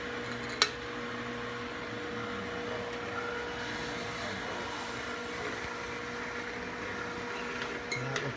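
A Quadrel wraparound labeling machine runs round cans through its pacing wheel, giving a steady mechanical hum and whir with faint rattles and a couple of sharp clicks, no voices.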